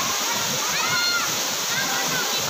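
Continuous rushing water at the Widuri waterfall in Grobogan, loud and close, with brief sloshing that may be a person jumping into the pool.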